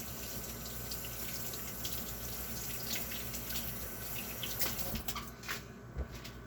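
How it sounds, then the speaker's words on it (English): Steady stream of tap water running into a sink while hands are washed, a continuous close hiss with a few splashy bumps near the end. "I'm gonna wash my hands first"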